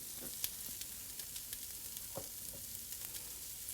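A tablespoon of cumin hits hot fat in a pot for a black bean chili, giving a faint, steady crackling sizzle with scattered small pops and no talk.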